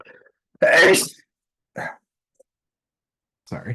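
A single loud, sharp sneeze in a quiet classroom during a math class meeting, followed by a short spoken word and a brief vocal sound, with silence in between.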